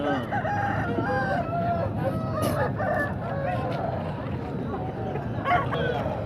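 Rooster crowing repeatedly at a busy Sunday chicken market in Piler, amid clucking fowl and steady crowd chatter; the crows ring out close and loud over the continuous background noise.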